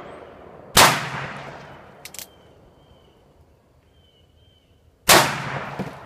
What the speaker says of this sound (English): we got 5 shots. Let's see what we can do to the empty jugs.